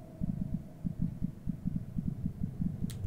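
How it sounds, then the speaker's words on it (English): Heartbeat in a Minecraft horror orphanage map, a low, muffled double-thump repeating in a steady rhythm over a faint hum, alone and fairly quiet. "do you hear that heartbeat?"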